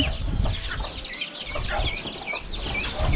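Several chickens cluck and chatter continuously close by, their calls overlapping with no pauses.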